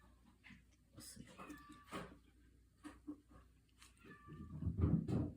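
A mother cat meows repeatedly to call her kitten, giving short, moderately loud cries spread across the clip amid low background noise and rustling.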